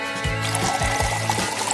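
Coffee being poured while brewing in a French press, a brief close liquid pour with gurgling, rising tones repeating in short bursts.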